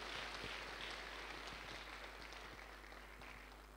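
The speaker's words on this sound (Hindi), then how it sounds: "जोरदार तालियां अजय जी और इनके लिए" Audience applause for a guest at a network marketing seminar, a broad wash of many hands clapping steadily, loud at first and slowly fading, with a low hum underneath.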